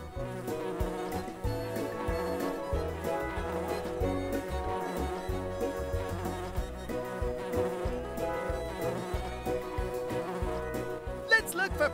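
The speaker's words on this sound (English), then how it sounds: "Use the arrows to fly the bee from flower to flower." In the Nature Cat pollinator game, a bee's buzzing wing drone carries on steadily for several seconds as it flits between flowers, mixed under loud, continuous game music.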